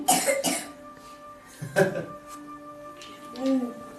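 A person with a cold coughs several times, with harsh, close bursts at the start, one in the middle and one near the end, over a quiet indoor household background.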